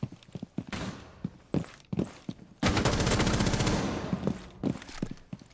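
A short burst of R4C rifle fire in a video game, a dense rapid rattle of shots lasting about two seconds, preceded and followed by scattered footstep-like thuds and clicks.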